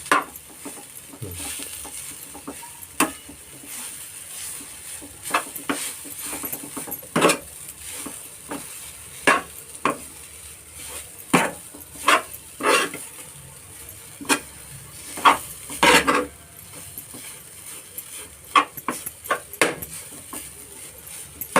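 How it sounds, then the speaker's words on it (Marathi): Grated kanga tuber sautéed in ghee over a low flame, heard as repeated close scrapes and clinks of a spoon against the pan above a faint, quiet sizzle, irregular strokes spread across the whole stretch with no talking. "तुपावर ह्या किसले आपण ते परतून घेऊया"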